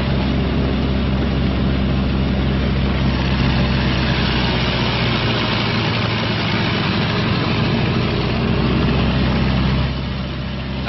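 Twin engines of a B-26 bomber run up together to about 1,800 RPM during a preflight check, giving a loud, constant, heavy drone that holds steady and eases slightly at the end.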